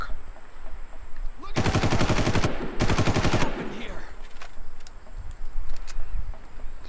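Enemy automatic gunfire in the Far Cry video game, two loud rapid bursts of about a second each, separated by a short pause, with scattered quieter game noise around them.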